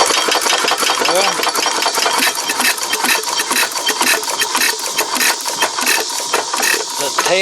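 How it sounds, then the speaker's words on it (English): A 1918 Fairbanks Morse Z 1 1/2 hp hit-and-miss stationary engine chugs steadily and loudly with rapid, even mechanical knocking, running continuously throughout. "this engine starting and running as easy as it does"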